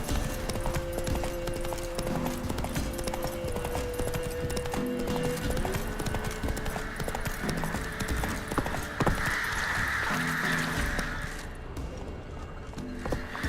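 Roach, a horse in The Witcher 3, gallops in steady rapid clip-clop hoofbeats with an occasional whinny, layered over continuous game music and ambience at moderate, close level.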